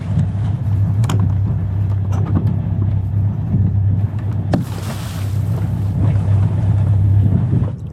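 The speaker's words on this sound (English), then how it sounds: "I'm taking the dinghy in now to this little resort here." Motorized dinghy running from an anchored sailboat toward a small resort, a loud steady outboard drone with wind and water splashing, heard close throughout.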